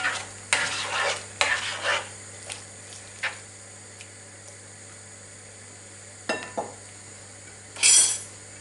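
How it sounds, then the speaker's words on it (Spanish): Lamb offal fries in a pan with a soft continuous sizzle, broken by several clattering stirs and scrapes of a utensil against the pan, close up and with no talking. "Y vamos a dejar ahí que se vayan sofriendo, que se vayan haciendo"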